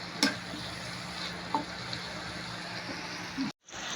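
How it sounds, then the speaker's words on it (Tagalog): Pork adobo with pepper being stirred in a pan, soft steady sizzle with a few faint scraping clicks of the spoon, quiet and close. "Lalagyan natin paminta, tapos halu-haluin natin yan."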